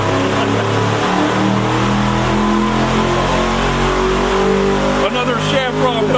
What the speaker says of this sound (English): Another Shafiroff motor being dynoed